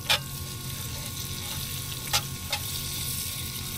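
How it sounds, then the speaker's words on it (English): Food sizzles and fries in a pan on the road with a truck driver cooking, a steady close crackle broken by a few sharp scrapes of stirring utensil against the pan. "so now I'm gonna stir it"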